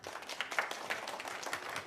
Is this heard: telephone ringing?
no